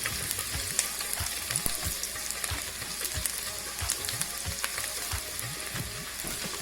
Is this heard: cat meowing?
no